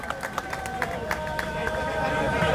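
Crowd clapping at a wrestling dangal honoring a coach, dense outdoor applause with a murmuring hubbub and a faint tonal hum beneath, steady and moderately loud.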